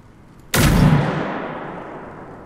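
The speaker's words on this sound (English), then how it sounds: "Are you just shooting to shoot, or was that an accident?" A single heavy gunshot in the video game Generation Zero, a sudden loud blast after near silence that rings out and decays slowly over a couple of seconds.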